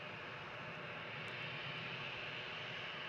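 An EasyJet passenger jet airliner passes near Edinburgh airport, a steady, broad engine roar holding at an even, moderate level throughout.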